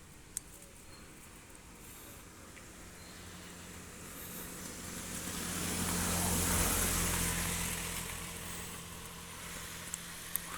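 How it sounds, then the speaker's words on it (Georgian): A car approaches on a rural road, its engine rumble swelling gradually to a peak up close and then easing back into a low steady idle, with faint clicks around it. "მანქანა მოდის ხალხო"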